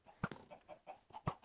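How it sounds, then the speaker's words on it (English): Chickens clucking in the video game Minecraft, a few soft, close clucks broken by two sharper, louder bursts. "the chickens, they just wander around."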